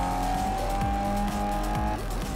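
Race cars roaring through a Forza Motorsport 4 race, with engine tones rising and dropping through gear shifts and some tire squeal, loud and steady throughout.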